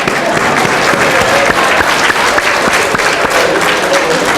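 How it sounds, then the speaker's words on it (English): A conference audience gives a big round of applause, loud, dense clapping that holds steady throughout without letting up. "Can you give them a big round of applause?"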